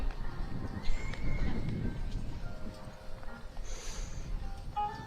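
At a CCI4-Long eventing dressage competition, a horse gives a short whinny over faint hoof clip-clops and a low background murmur outdoors.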